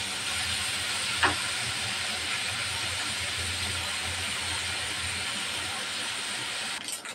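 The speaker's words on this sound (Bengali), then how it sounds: "হালকা ভাজা দেব মাছ" Small turmeric-and-salt-rubbed fish fry gently in hot oil, giving a steady, soft hiss and sizzle that runs evenly throughout with a brief louder crackle near the start.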